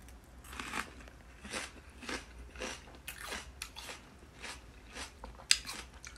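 Crunchy bites and chewing of raw onion dressed with squeezed lime juice, a steady run of close, crisp crunches about every half second with one sharper snap near the end, no talking.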